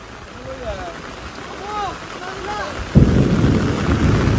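Heavy monsoon rain and thunder in the Konkan region. Bird chirps come first over a steady wash, then a loud, dense roar of downpour surges in and holds to the end.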